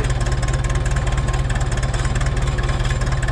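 A 1972 McCormick International B276 antique tractor engine runs at a steady idle close by, its low, regular knocking pulse continuous and loud throughout with no voices.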